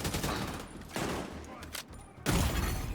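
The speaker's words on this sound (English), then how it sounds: "I hear gunfire." Rapid bursts of gunfire from The Division video game, dense volleys that cut in and out over about three seconds, loud and close with a heavy low-end roar.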